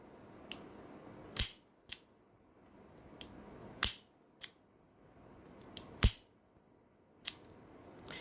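A revolver mechanism unlocks, rotates the cylinder and fires again, giving a series of sharp, close metallic clicks and snaps at uneven intervals over a quiet background, with several louder snaps among softer clicks.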